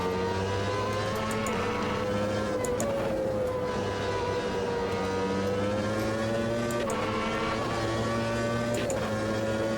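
Race car engine in the sim racing game Automobilista 2, a loud sustained drone with a whining tone that rises and dips through gear changes and cornering, steady throughout with no talk.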